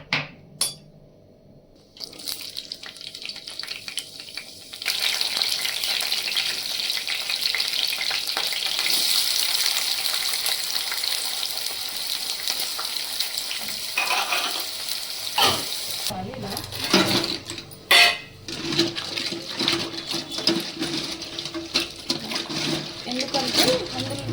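Cumin seeds hit hot oil in a pan for a crab curry, and a sustained sizzle rises after a quiet start and runs for about twenty seconds, with clinks and a brief voice near the end.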